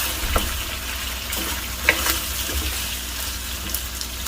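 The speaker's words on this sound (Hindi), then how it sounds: "मटन को बिल्कुल अच्छी तरह फ्राई करना है।" Mutton pieces frying in a pan for a Peshawari Shinwari karahi, a steady close sizzle with stirring scrapes and a few small pops throughout, no voices.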